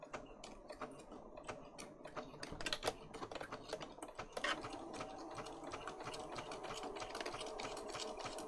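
A sewing machine stitches a junk journal in rapid, quiet mechanical ticking bursts, faint and close, with a brief pause and a slight change in pace midway through.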